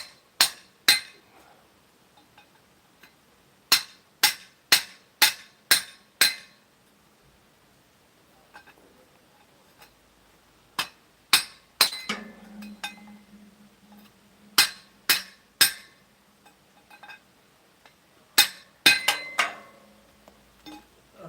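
A chisel hammered against old metal studs long buried in the ground rings out in sharp metallic strikes, first in quick bursts of several blows, then a pause and further clusters of hits, loud and close.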